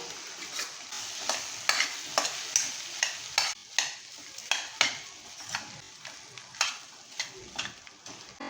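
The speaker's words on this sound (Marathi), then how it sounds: "आलं लसूणची पेस्ट आणि छान अशी आपण परतून घ्यायची आहे आता आपण ह्याच्यामध्ये ॲड करायचे आहे बटाटे वाफवलेले" Steamed potatoes sautéed with ginger-garlic paste in a pan for a potato bhaji: a soft background sizzle punctuated by a regular series of spatula scrapes and taps, close and fairly quiet, with no speech.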